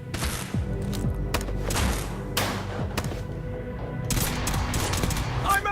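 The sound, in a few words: 12-gauge shotgun firing in a video game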